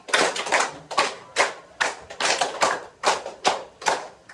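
A classroom group claps two rounds of five beats during a school guidance session, making a loud and close rhythmic run of about ten hand claps with no talking over it.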